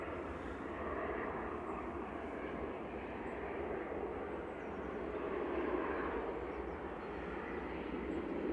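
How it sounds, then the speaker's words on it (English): EasyJet Airbus A320 Classic, registration G-EZTK, arriving at Manchester Airport from Amsterdam, a steady broad jet roar held at moderate distance for the whole stretch, swelling slightly near the end with no talk over it. "This is EasyJet 2172 from Amsterdam. GEZTK and A320 Classic."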